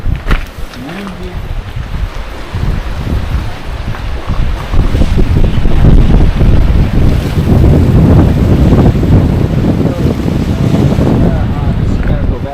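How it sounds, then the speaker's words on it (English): Wind gusts buffet the microphone on the coast at Miramare, Italy, a steady low roar that builds louder after a few seconds and stays close and rough throughout, with lapping water beneath. "This is why on the coastal side it is windy."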